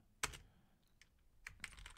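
Keys on a computer keyboard are tapped in a short, quiet run of a few separate clicks, close up and soft in an otherwise still room.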